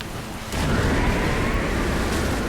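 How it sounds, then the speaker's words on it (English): A boss unleashes a lightning attack in Dark Souls Remastered: a sudden loud crackling burst that sets in after a quiet moment and holds as a dense rumbling roar. "okay, and then he does the lightning"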